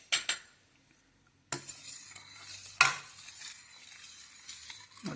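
A spoon stirs cardamom powder into a jaggery mixture in a pot, with close scraping and metallic clinks after a short pause, then steady scraping stirs.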